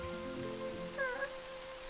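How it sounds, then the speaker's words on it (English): Steady soft rain falling in a Tayo cartoon scene, a continuous hiss under faint musical tones, with no talk. "but it's raining."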